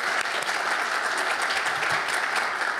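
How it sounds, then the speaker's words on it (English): Audience claps for two event organisers at the opening of a festival of learning, a dense, even round of applause from a sizeable crowd lasting a few seconds, loud and steady with no talking over it. "just a brief round of applause for Jovi and Aaron"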